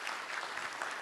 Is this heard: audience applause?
yes